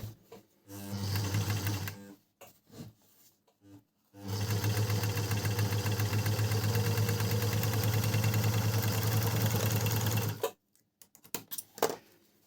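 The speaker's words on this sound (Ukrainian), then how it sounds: "Ось так оверлочок працює." A hand-cranked overlock sewing machine runs in two bursts, a short one first and then a longer steady whirring stretch of several seconds, close and mechanical, with quiet clicks and pauses around it.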